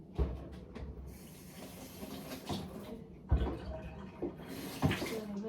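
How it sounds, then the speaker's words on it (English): Tomatoes being washed under a running tap in a kitchen: a continuous hiss of flowing water with occasional knocks and splashes, heard close and fairly quiet. "Right, I've washed my tomatoes."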